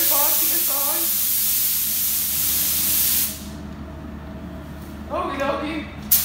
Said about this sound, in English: We're gonna spray it at 35 psi.